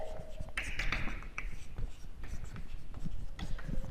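Marker or chalk strokes scratching across a board during a mathematics lecture on groups and operation tables, a steady run of short close scribbles with faint background murmur.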